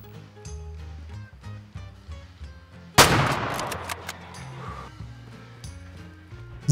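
A single sharp rifle shot at a pheasant in the hunting game Way of the Hunter, a loud crack with a ringing tail, set over a quiet, steady game soundtrack.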